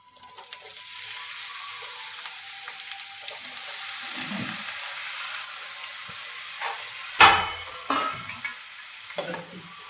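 Eggplant pieces drop into hot oil and burst into a loud, steady hissing sizzle that holds for several seconds, followed by a few clattering knocks and scrapes as the pan is stirred near the end.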